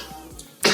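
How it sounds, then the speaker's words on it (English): A woman with asthma and COPD coughs once, a loud, harsh burst close to the listener that comes after a short stretch of quiet room noise. "I have asthma with COPD and I have a cough today."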